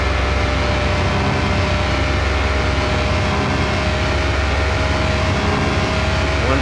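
A Nissan Skyline R34 GTR engine at top speed in the game Car Mechanic Simulator 2021, a loud, constant droning roar with steady tonal whine, unbroken throughout and no talk.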